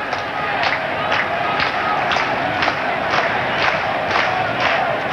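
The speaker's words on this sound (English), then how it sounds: "the slow hand clap is up for the Kiwis, for the All Whites" A stadium crowd at the 1990 World Cup qualifier between Israel and New Zealand beats out a slow hand clap for the All Whites, evenly spaced loud claps about twice a second over a constant roar.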